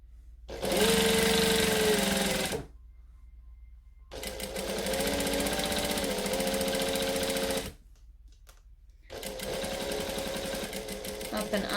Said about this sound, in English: Now I will be overlocking all of this. So the overlocker will follow the path that I'm currently sewing.